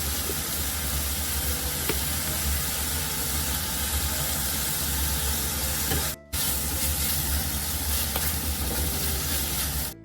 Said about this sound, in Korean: 고기 잡내 조금 없어지라고 미림을 조금 넣어줄게요